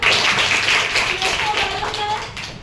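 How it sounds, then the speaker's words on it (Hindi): A crowd of children in a classroom claps loudly and steadily in an enthusiastic burst of applause. "श्लेष के लिए जोरदार तालियां।"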